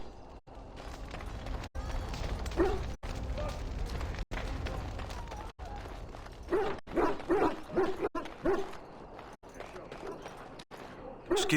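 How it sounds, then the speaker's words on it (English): Hounds in the video game Dragon Age: Origins, sick from Darkspawn blood, bark and yip repeatedly against a steady rumbling ambience, the bursts growing busier toward the end, with people talking over them. "I must get the hounds ready for battle"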